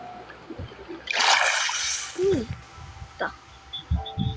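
A short burst of water splashing up close, followed by scattered small sloshes and soft vocal sounds.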